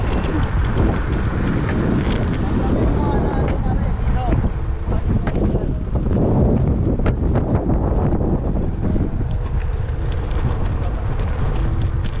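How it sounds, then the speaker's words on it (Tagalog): Strong wind outdoors in Canada buffets the microphone with loud, constant rumbling gusts, broken by occasional faint clicks and knocks. "Okay, medyo mahangin ngayon."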